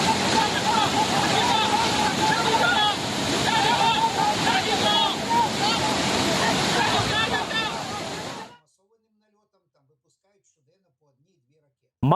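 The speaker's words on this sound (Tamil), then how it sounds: "உஜ்ஜயினி பகுதியில் ஓடும் ஷிப்ரா ஆற்றில் தண்ணீர் ஆர்ப்பரித்து செல்கிறது" Shipra river in Ujjain swollen by heavy monsoon rain, floodwater rushing loudly in a steady broadband roar that cuts off abruptly, leaving near silence.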